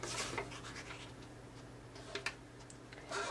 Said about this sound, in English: now I'm gonna cut off a little bit off this end.